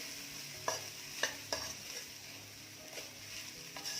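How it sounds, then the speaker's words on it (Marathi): Grated coconut dry roasting in a pan over medium-low flame, with a soft steady sizzle and occasional sharp scrapes and taps of a spatula stirring it, close and quiet with no talking. "खोबरं भाजताना गॅसची आच मध्यम ते मंद असावी।"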